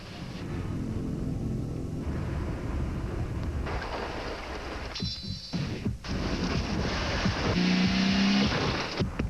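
BMW Z4 Roadster engine in a TV commercial, a loud rumbling drive with revving swells, a few sharp whooshing passes and thuds, close and continuous without speech.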